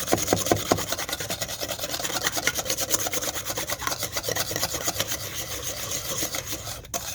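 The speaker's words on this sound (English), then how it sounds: "So make sure you whisk it really good." Egg yolks for hollandaise sauce are whisked briskly in a bowl, giving a continuous fast scraping and rubbing rhythm that stays close and fairly even throughout, with no talking.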